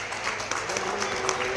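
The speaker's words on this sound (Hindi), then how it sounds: "मैं सभी का जोरदार तालियों से स्वागत करना चाहूँगा।" Audience applause fills a hall at the opening of the IMT Industrial Expo 2023, a steady dense clatter of many hands throughout, fairly close and without pause.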